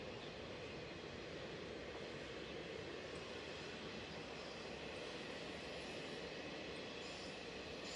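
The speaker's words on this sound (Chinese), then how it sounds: "是一列货车。" A long freight train of tank cars rolls past near the Fujian–Jiangxi border in the Wuyi mountains, a loud, steady rumble of wheels on rail that fills the whole stretch with a faint squeal on top and no voices.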